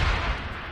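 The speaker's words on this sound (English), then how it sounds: "Alright, that's a good grenade." A grenade blast in Deus Ex: Human Revolution, a single brief low rumbling boom that fades out over under a second, loud and without speech.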